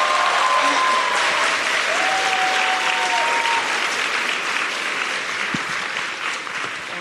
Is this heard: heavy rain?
no